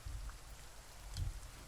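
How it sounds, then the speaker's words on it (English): Rain falls steadily in the Alpine farming video game Farming Simulator 19, a soft continuous patter with a brief swell of heavier drops partway through. "we just sort of hope this rain goes away soon"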